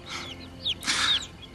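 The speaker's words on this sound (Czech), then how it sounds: "jsou to jen kuřata" Chickens cluck in a few short, bright calls, with one louder burst in the middle, fairly close by against a quiet background and no talking.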